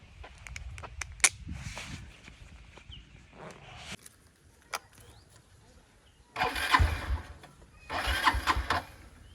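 A motorbike on a cold winter morning in a village, kicked over repeatedly: sharp knocks and sputters early on, then two louder bursts of engine roar later, with footsteps nearby.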